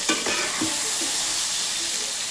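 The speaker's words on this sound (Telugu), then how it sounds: "ఇప్పుడు వంకాయలు మంచిగా వేగినాయా లేదా చూద్దాము. వంకాయలు అయితే మంచిగా వేగినాయి." Eggplants fry in a hot pan for Telangana-style bagara baingan, giving a steady loud sizzle, with a few quick scraping stirs near the start.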